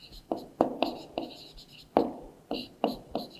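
Chalk or a marker taps and scratches across a classroom board in short, close strokes, about eight quick marks in an uneven rhythm as a maths total is written out, with faint breathy voice underneath.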